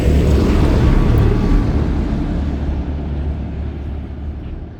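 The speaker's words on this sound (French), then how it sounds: "Le tracteur passe." A tractor passes by a countryside vegetable garden, a loud, low rumbling engine drone that gradually fades as it moves away, with no talk over it.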